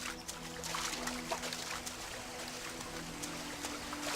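A waterfall in the video game ELEX, a faint steady rush of falling water with a continuous broadband hiss and no voices.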